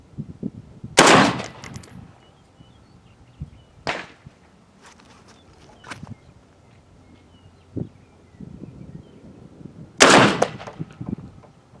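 KelTec RDB rifle firing two loud, sharp single shots about nine seconds apart, with fainter clicks and handling noises between them and no talk.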